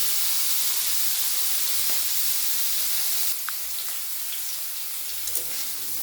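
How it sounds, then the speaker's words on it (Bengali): Broccoli frying in a pan for a roast makes a continuous close hiss and sizzle, louder in the first half and then slightly softer with a few light crackles, with no speech. "ব্রকলিগুলো ভাজা হচ্ছে।"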